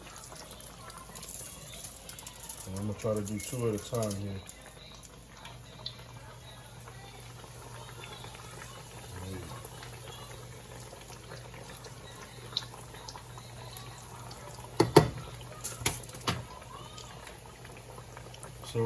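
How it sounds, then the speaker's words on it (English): Halved chicken cutlets for chicken Parmesan fry in hot oil two at a time, a soft, steady sizzle under a person talking, with a few brief clinks and bumps of handling. "Whenever you're frying something, always drop it away from you because you don't want to get splashed"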